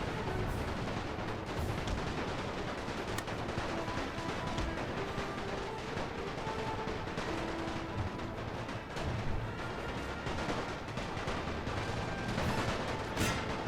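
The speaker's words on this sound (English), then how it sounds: "let's see if we can hit these guys with grenades" Battlefield combat in the video game The Great War, with dense continuous gunfire and thudding grenade and artillery blasts, a constant rattling barrage of shots at moderate level with no pauses.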